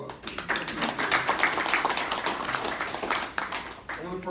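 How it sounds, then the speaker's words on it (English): A small room audience at a business opportunity presentation gives a round of applause, scattered hand claps, fairly close, with brief voices mixed in as the clapping fades. "Round of applause."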